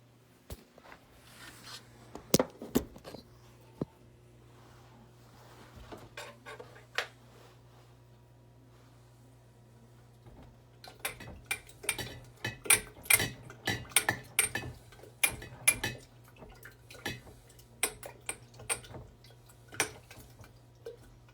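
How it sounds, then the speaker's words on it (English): Mead ingredients are stirred in a container, giving sparse, quiet clinks and taps at first, then a busier run of close scraping knocks and ticks, with no talking. "So I'll just stir that around."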